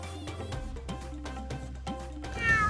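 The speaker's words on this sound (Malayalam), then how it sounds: "ഇതൊരു പേർഷ്യൻ പൂച്ചയാണ്." A Persian cat at an organic farm stay in Abu Dhabi gives several short, close meows in an uneven rhythm, with a louder cry near the end.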